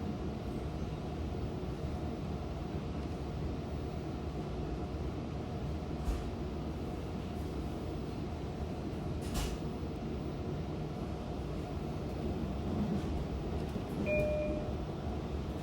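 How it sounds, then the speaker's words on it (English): Steady low rumble of a Long Island Rail Road passenger train running on rails to Greenport, a constant roar with faint clanks and a brief high squeal near the end. "This is the train to Greenport."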